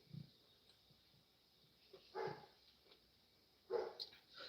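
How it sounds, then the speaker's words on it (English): A neighbor's dog barks faintly in the distance, a few soft barks in two brief clusters over quiet background hiss. "That's my neighbor's dog barking."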